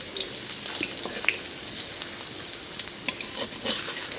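Pumpkin leaf fritters frying in oil over medium heat, a continuous crackling sizzle with scattered pops and spits, close and steady.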